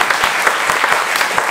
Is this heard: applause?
yes